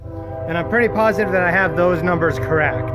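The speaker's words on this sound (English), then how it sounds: "Sorry for the train. It's always interrupting." A train horn sounding from a passing train, its harmonic blast carrying through a woodworking shop and partly masked by close talk.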